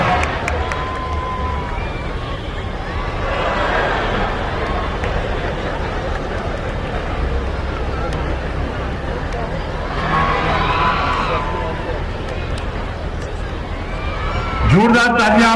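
A large outdoor crowd applauds and cheers at a Republic Day horse riding display with a fire jump, steady clapping and crowd noise throughout with swells of cheering, and a voice rising near the end.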